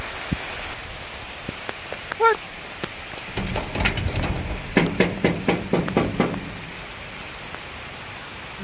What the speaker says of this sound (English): the rain just started coming down too